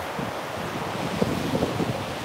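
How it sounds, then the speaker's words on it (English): Strong outdoor wind buffets a microphone on a tripod, making a loud, steady roar of rushing noise with uneven gusts and no voices. "This is so windy today."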